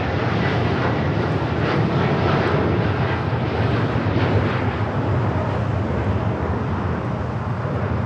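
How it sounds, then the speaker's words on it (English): A United Airlines Boeing 787-10 Dreamliner takes off from Los Angeles LAX, its engines producing a loud, steady, broadband jet roar that holds unbroken throughout, with no voices. "This is United Airlines Flight 39 taking off to Tokyo Haneda on the 787-10 Dreamliner"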